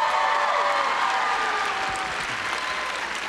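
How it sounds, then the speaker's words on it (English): Audience applause fills a school hall during a Milken Award presentation, a dense steady clapping with some crowd noise, loud and continuous throughout with no talk over it. "Let's give him a big cheer."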